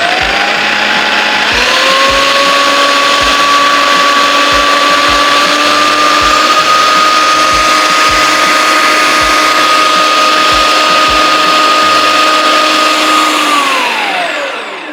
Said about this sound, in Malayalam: നമുക്ക് അതങ്ങോട്ട് അടിച്ചു കൊടുക്കാം.